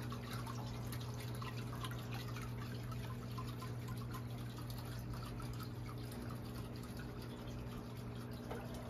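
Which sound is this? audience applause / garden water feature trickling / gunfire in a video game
garden water feature trickling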